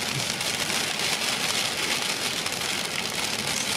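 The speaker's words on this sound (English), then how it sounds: "Here comes the hail." Hail pelts a pickup truck during a storm while out coyote hunting, a dense, continuous hiss of hard drumming and rattling on the vehicle, heard from inside at a steady level.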